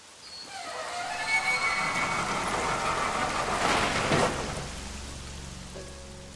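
Rain falling in the video game Killer is Dead, a steady hissing patter that swells louder midway and eases off, with a brief tonal game cue near the end and no talk.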